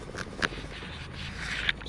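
Soft, quick wiping and rubbing as a cloth cleans a PlayStation VR headset screen, a couple of brief scuffs standing out from the low, close handling noise.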